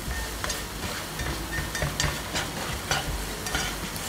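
Shrimp, egg and spices sizzling in a hot pan as a utensil stirs them, a constant frying hiss with rhythmic scraping strokes about every half second.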